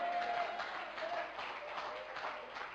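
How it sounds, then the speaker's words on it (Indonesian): An audience at a Christian church sermon claps together, a faint, distant and even patter of applause that continues throughout. "saya suka kalau saya tepuk tangan begitu"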